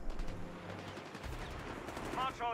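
Machine gun fire in a multiplayer video game, heard as a fast burst of rattling shots at moderate distance, with other game sounds and faint tones mixed in.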